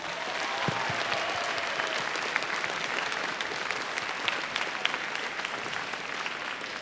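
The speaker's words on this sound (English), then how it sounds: "if we can have actually a round of applause to the staff for actually putting all the effort in." An indoor audience at a Team Fortress 2 gaming tournament final claps steadily for the event staff, a dense, sustained round of applause with scattered sharper claps and faint crowd murmur.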